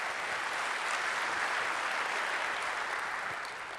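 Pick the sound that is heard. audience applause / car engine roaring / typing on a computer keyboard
audience applause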